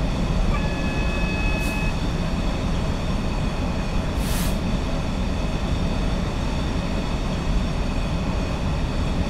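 Class 66 diesel freight locomotive in Train Simulator 2015, coasting near 60 mph on a UK line near Law Junction, a steady loud rumble of engine and wheels on rail with a faint rising tone, continuous throughout.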